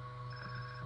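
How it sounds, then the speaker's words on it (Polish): A telephone rings in GTA San Andreas, a steady electronic trill held at even loudness for under a second, close and clear with no talk over it. "Jednak dzwoni brachul."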